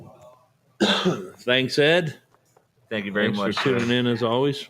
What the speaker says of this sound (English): I was coughing, but thank you.